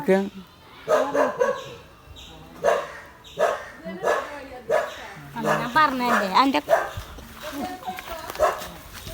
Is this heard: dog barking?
yes